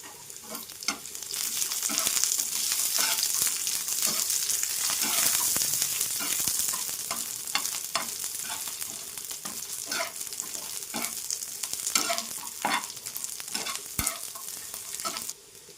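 Garlic cloves frying in a hot pan for katachi amti, a loud, continuous sizzle with repeated scraping stirs, strongest early and easing slightly later.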